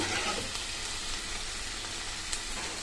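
Soaked barley and sabudana being stirred in a hot pan, giving a steady, close sizzle with a soft, even hiss throughout and no voices.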